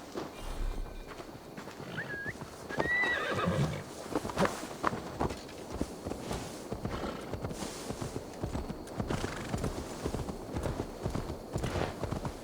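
Horse hooves clip-clop steadily in Assassin's Creed Valhalla while a horse neighs briefly near the start, with rhythmic hoofbeats continuing close by over a soft ambient backdrop.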